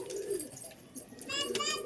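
A Mataj ice-eyed pigeon coos softly up close in a short, faint murmur, with someone speaking over it.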